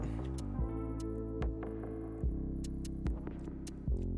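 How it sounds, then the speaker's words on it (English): Pipes being welded in the video game Stationeers: a steady low electronic drone with layered hum, broken every second or so by sharp clicks and brief throbbing pulses, with no voices. "So we'll get these guys welded up."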